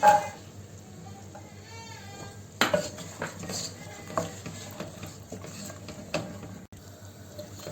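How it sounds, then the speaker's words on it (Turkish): Close-up stirring and scraping as carrots sauté in butter in a pan, with spoon clinks against metal and a soft sizzle underneath, irregular and moderately loud. "Daha sonra havuçlarımı kavurmaya başlayacağım"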